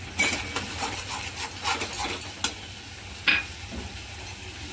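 Spice powders, cumin and coriander, tipped into a hot pan for kaju masala and stirred, a steady close sizzle with scraping strokes and a few clinks of spoon on metal, no talking.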